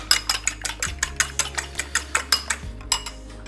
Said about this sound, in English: Make sure you whisk it really well